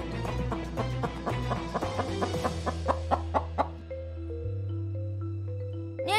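A chicken clucks repeatedly over a busy musical backing, short pitched bursts in a quick rhythm that fade out partway through as sustained tones carry on.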